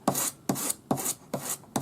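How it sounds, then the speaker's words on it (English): Sandpaper of 400 grade on a sanding stick rubs along the curve of a metal bangle to tidy a soldered join, a close, soft rasping in five even back-and-forth strokes. "take my 400 grade paper on my sanding stick, follow the curve of the metal, and tidy up the join"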